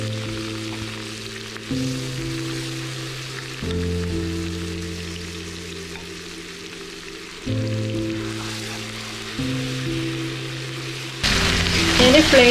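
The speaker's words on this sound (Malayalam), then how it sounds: "ഈ വെളിച്ചെണ്ണയിലേക്ക് കറിവേപ്പില ഇട്ട് കൊടുക്കുകയാണ്." Curry leaves crackle and sizzle in hot coconut oil, a steady close frying hiss that runs throughout with a tonal musical drone shifting underneath, growing brighter near the end.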